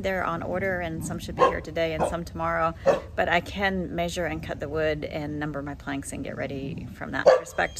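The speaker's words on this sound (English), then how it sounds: "Sorry about the barking." A dog barks and yips intermittently in the background while a person talks steadily over it.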